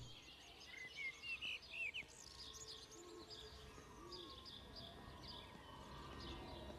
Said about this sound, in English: It sounds like there's plenty of birds.